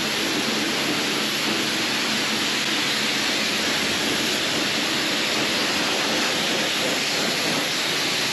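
A pressure washer blasts steadily onto a motorcycle at a wash bay, a continuous loud hissing spray with no breaks and no talking.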